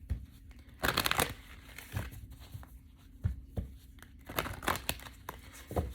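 Soul's Journey oracle cards are handled and shuffled, giving crisp crinkly rustles and slaps in irregular bursts with quieter gaps between them.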